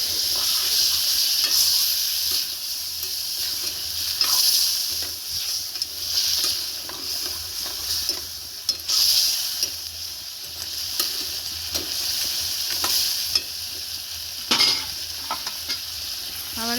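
Mustard and poppy seed paste sizzles and hisses in a pan while a spoon stirs it with repeated scraping strokes, steady and close, with no talking.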